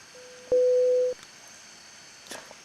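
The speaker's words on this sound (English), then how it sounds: "All those beeps you're hearing, by the way, is from FSN. Those are text messages from Unicom" A flight simulator cockpit of a PMDG 777F gives off a single steady electronic beep tone lasting about half a second, preceded by a faint lower tone, then short quiet clicks, alerting to an incoming Unicom text message.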